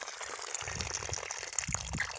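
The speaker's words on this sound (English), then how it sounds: "You will see that the water runs because the valve rod is fully open" Water running through a fully opened Freeze Miser valve rod, a steady close splashing trickle with small drips and gurgles and no voices.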